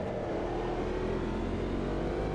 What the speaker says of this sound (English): Braking down here, hard, braking down to second.